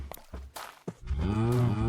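A cow mooing in Minecraft, a close, loud, drawn-out low moo following a few short thumps and scuffs.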